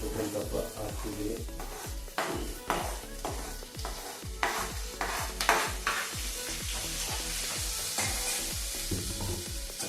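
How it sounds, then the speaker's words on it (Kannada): Capsicum and chilli frying in oil in a home kitchen pan, stirred continuously: a dense, loud close sizzle with rapid rhythmic scraping of a spatula, and no voices. "ಅಷ್ಟೇ, ಫ್ರೈ ಮಾಡ್ತಾನೆ ಇರಬೇಕು."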